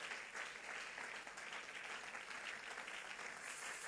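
A church congregation at a Sunday service applauds in a dense, steady wash of clapping that holds at an even level from start to finish, with no break.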